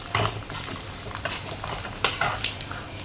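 Garlic and black pepper fry in a pan while a metal spoon stirs, giving repeated sharp clinks and scrapes over a faint, low sizzle.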